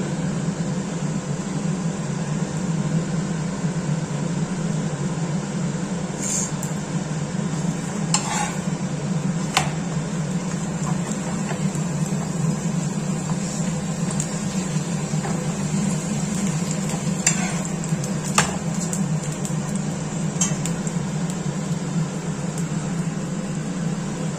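Roll flatbread cooking on a pan with refined oil for a vegetarian veg roll, a steady low frying hiss with a steady hum underneath and a few sharp clicks and scrapes of utensils.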